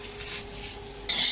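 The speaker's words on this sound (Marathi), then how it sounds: "खोबरा घेऊया भाजून" Coconut is roasted in a pan, a short steady sizzle and scrape of stirring that brightens and grows louder in its final moment.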